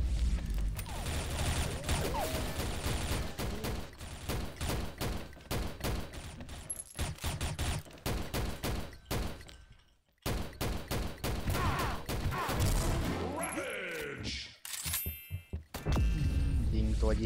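Gunfire and explosions fill a round of the online shooter XSHOT: dense bursts of rapid automatic fire and loud booms, nearly continuous with brief pauses, while players talk over the action.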